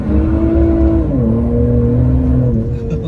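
A 500 hp Infiniti Q50 on full bolt-ons accelerating hard while spinning its slicks, a loud steady engine drone heard from inside the car with a slight pitch shift as it pulls.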